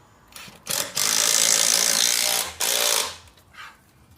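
A power drill fitted with an 8mm bit bores into concrete while a driveway gate is installed: a short start, then two long, loud grinding bursts split by a brief pause, followed by a fainter trailing burst.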